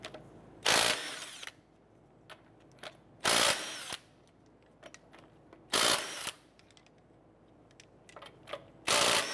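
A power tool with a 19mm socket spins off the wheel lug nuts of a 2008-2012 Honda Accord, firing in four loud bursts of about half a second at regular intervals, with small clicks and handling noises in between.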